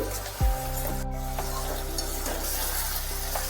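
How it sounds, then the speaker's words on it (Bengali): Turmeric and salt are stirred into a raw flat bean (sheem) paturi paste, a soft scraping and rubbing that sits under a steady low hum, with no voices. "দিয়ে একটু নাড়িয়ে চাড়িয়ে নিচ্ছি"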